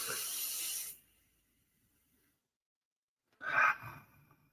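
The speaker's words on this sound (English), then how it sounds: "Long inhale. Long exhale." Slow, deep breathing in a calm guided meditation: one long airy exhale fades into silence, then a soft breath returns a few seconds later, close and alone.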